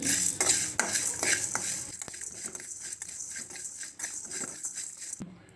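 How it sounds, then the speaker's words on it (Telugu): Coriander, cumin and fenugreek seeds dry-fry in a pan for fish gravy, giving a close, soft sizzle under repeated scraping and clinking from a spoon that fades toward the end, with no voices. "కొద్దిగా జీరా, మెంతులు, ఫ్రై చేద్దాం."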